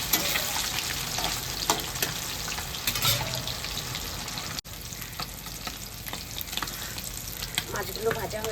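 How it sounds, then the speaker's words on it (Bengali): Fish frying in a pan for a Bengali fish curry, a steady close crackling sizzle with bursts of spattering oil throughout, no talk. "মাছগুলো ভাজা হয়ে গেছে,"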